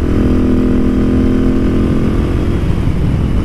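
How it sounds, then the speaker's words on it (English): A motorcycle fitted with a Wings aftermarket exhaust, Rade intake and PCV revs steadily and loudly at close range, a deep continuous engine drone filling the recording with no talking. "I hope you can hear a bit of this exhaust."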